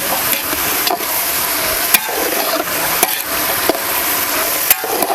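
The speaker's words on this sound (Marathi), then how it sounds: "आता आपण सगळं भाजी आहे ना असं चांगलं असं परतून घेतलेले आहे तेलामध्ये" Thinly sliced tomatoes and vegetables sauté in oil for a big pulao breakfast, a loud steady sizzle broken by sharp scraping stirs and utensil knocks, with no talk.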